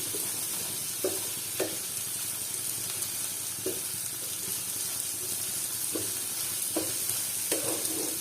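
Black mung beans stirred through a spice masala in a pan on low heat, a continuous gentle sizzle punctuated by regular soft scraping strokes of a spoon, close and unaccompanied by talk.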